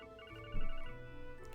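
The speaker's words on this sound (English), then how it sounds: "Ring, ring, ring, ring, ring, ring. Phone call." A phone rings in the video game Trails to Azure: a soft, steady electronic ringtone with sustained tones, fairly faint and alone.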